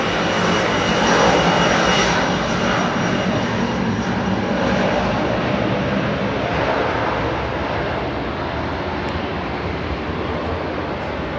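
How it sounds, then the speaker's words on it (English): A Boeing 747 jet at Heathrow Airport roars loudly and steadily for over ten seconds, a broad unbroken engine rush that eases slightly toward the end. "pray silence for the Queen of the Sky. It's Boeing 747."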